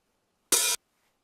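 A single open hi-hat drum sample, its lows cut below about 600 Hz, rings once as a short, bright, loud burst of sizzle, then silence.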